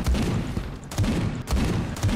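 Heavy light-machine-gun fire in the Space Hulk: Deathwing video game, loud and close, coming as three dense bursts of booming shots separated by short gaps, with no talk over it.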